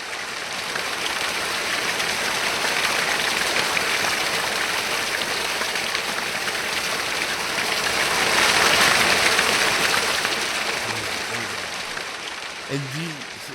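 Water ambience played back in a jungle sound design built with Unreal and Wwise, a steady broadband rushing and trickling wash like flowing water or rain, swelling louder near the end, with a brief faint low sound at the close.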